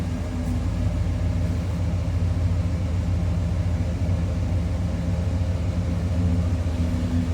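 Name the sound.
V8 car exhaust at low idle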